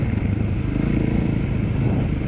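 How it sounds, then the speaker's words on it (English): A dirt bike engine drones steadily and loudly throughout while being ridden, a continuous close rumble with no speech. "Right now I'm just trying to remember how to ride a dirt bike"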